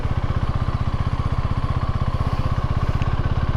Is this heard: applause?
no